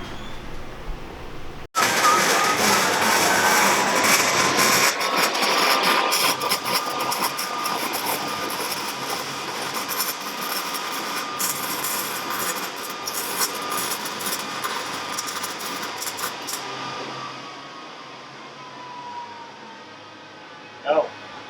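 Small belt sander grinding in a car engine bay during an LS6 swap into an E30 Touring, a loud continuous abrasive whine starting abruptly and running steadily for about fifteen seconds before tapering off, heard close with no talking.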